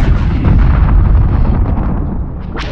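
Space fleet weapons fire and explosions in the video game Homeworld 2, a dense, loud, continuous barrage of booming blasts and rumbling detonations with no let-up.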